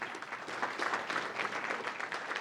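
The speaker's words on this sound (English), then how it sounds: "Let's give ourselves a round of applause" A small corporate fitness session audience applauds together, a faint, steady patter of many hands clapping at once, heard alone without voices.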